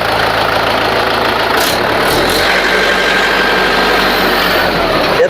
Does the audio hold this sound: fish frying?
no